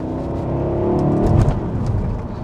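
A Jaguar XK's V8 pulls hard under acceleration, a loud, close, steady engine roar that builds and swells through the middle before holding on.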